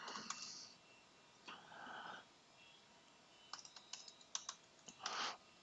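Keystrokes on a computer keyboard entering login credentials for an enterprise network, soft and close, in a few scattered bursts of clicks with short pauses between them.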